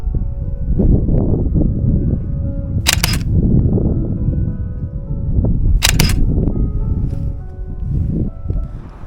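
Two crisp shutter clicks from a Sony A7R camera, spaced about three seconds apart, taking street photos on a busy Beijing commercial street, heard close over steady crowd and traffic murmur.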